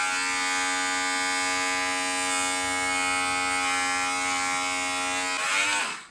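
A QBZDOUA professional hair clipper runs with a loud, steady, high electric buzz for about six seconds, close and alone, before it winds down and stops at the end.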